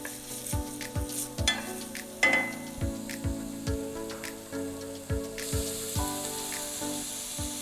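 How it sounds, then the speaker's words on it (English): Onions cook in a pan, stirred with repeated scraping strikes and clinks over a constant sizzle, close and fairly loud. "we're gonna cook for about 5 minutes or until the onions are translucent"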